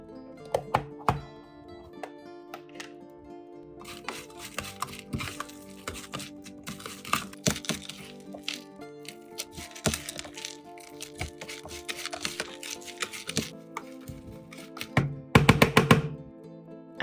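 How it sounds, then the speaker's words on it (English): Frozen chopped green onions are shaken hard in a container, producing a dense stream of clattering, rattling clicks and knocks that rises into louder bursts near the end. "Once the food is completely frozen, take it out and shake vigorously to separate the pieces"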